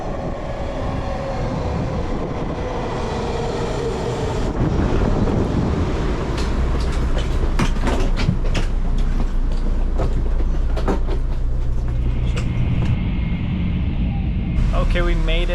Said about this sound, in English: So we're headed to Taipei.